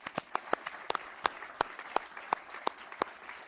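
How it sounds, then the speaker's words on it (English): A small audience at the Bob Feller Awards ceremony at the U.S. Navy Memorial claps for award winners: a dozen or so sharp, separate claps, loosely spaced and fairly close, with no voices. "Please congratulate them again with a round of applause"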